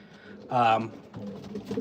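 Pigeons cooing inside a pigeon loft. One soft, throaty coo rises briefly above low background murmur while someone talks nearby.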